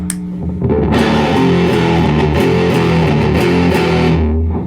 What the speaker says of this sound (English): So here's the regular Big Muff.